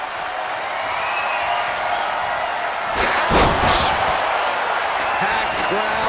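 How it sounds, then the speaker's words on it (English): Manhandle slam in a WWE 2K ladder match, a single heavy body impact on the mat midway, over steady arena crowd noise and commentary. "The manhandle slam."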